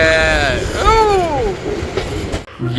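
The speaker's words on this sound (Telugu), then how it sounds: "బండి అదిగో అదిగో రైలు బండి" A passenger train rolls past close by, a horn blaring with a falling pitch over the rumble of the cars before cutting off abruptly.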